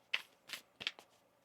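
A deck of tarot cards being shuffled by hand, four quick riffling bursts close up, crisp and fairly quiet, with no talk over them.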